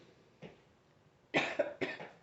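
A faint short cough, then two louder, closer coughs in quick succession.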